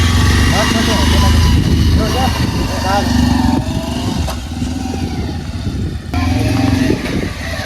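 A motorcycle engine runs loud and close with a steady rough drone and slight revving, while people talk over it throughout.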